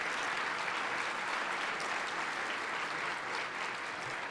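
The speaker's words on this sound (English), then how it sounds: "I want y'all to get a round of applause from folks" Sustained, dense applause from an audience at a president's address fills the whole moment evenly, a steady wash of many hands clapping with no voices on top.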